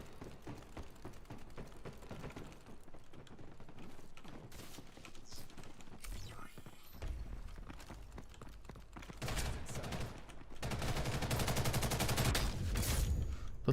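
Gunfire in the online shooter Ghost in the Shell: Stand Alone Complex First Assault, with dense rapid bursts of automatic weapon fire, some crisp clicking, and louder sustained volleys toward the end, with no voices.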